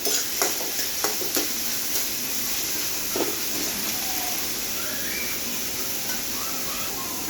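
Fried rice for Schezwan fried rice being tossed and mixed with a spatula in a hot pan, a steady close sizzle and hiss with a few sharp scraping strokes early on, then continuous frying noise.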